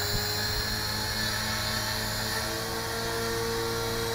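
A Tarot 450 Pro V2 RC helicopter, just rebuilt after a crash with a new main shaft, feathering shaft, blades and skids, flies on its first test: a steady, loud, high-pitched whine of rotor and motor runs throughout.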